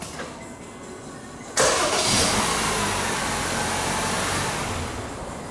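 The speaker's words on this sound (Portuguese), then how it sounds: "Ó, liguei de novo." A Honda CR-V engine cranks and catches after a starter-noise repair, its start crisp and smooth, then settles into a steady, close idle that fills the rest of the clip after a quiet opening.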